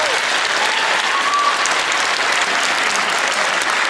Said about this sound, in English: Let's give the orchestra another round of applause.